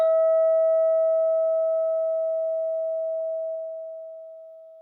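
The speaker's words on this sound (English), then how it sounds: "We're going to exit this short sit with the sound of the bell." A single struck meditation bell rings with a pure sustained tone that slowly fades away over several seconds, alone in a quiet room.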